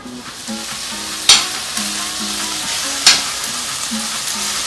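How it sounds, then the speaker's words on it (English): Chopped onions sizzle and fry steadily in a pan for a vegan mangú, with a continuous hiss and two sharp scraping stirs standing out. No one speaks over the cooking. "So the onions are cooking, as you see."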